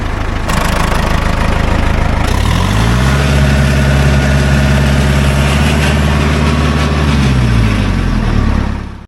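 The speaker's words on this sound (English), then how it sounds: "John Deere 2010 diesel." A John Deere 2010 diesel tractor with about 4,000 hours idles loud and close, a steady low chugging rumble that dips briefly in pitch partway through, with no talking.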